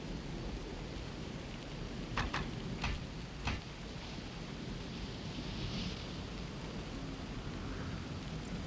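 Soft continuous hiss of rain in Baldur's Gate: Dark Alliance II on PS2, a steady even wash at low level with a few brief faint crackles mixed in.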